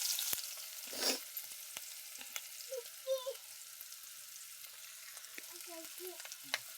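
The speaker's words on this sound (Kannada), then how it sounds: "ಈಗ ಈರುಳ್ಳಿ ಹಾಕ್ತಿದ್ದೀನಿ ಉಳ್ಳಾಗಡ್ಡಿ ಹಾಕ್ತಿದ್ದೀನಿ" Chopped onions sizzle steadily in a little hot oil for a kebab dish, a close, continuous hiss broken by a few soft clinks and stirring scrapes.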